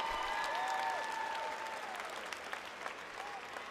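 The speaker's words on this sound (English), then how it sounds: "Students, give these people a round of applause for helping you get to this point." A high school graduation crowd applauds the faculty and staff, broad sustained clapping in a large hall that swells early and then slowly thins, with scattered cheers and voices.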